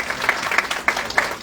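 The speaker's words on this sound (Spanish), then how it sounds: "Un fuerte aplauso para él," A small audience at a Peruvian tourism forum on air connectivity claps for Evans Avendaño, general manager of Aeropuertos del Perú, as he arrives: sparse, moderate applause with a few distinct sharp claps standing out at a regular pace.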